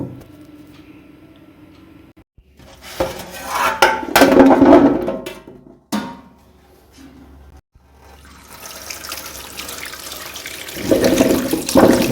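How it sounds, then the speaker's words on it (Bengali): Peeled gati kachu taro corms washed under running water, with splashing that starts and stops in bursts, rises loud, drops to quiet gaps, then returns as a steady stream near the end. "এখন কচুগুলোকে ভালো করে ধুয়ে নেব।"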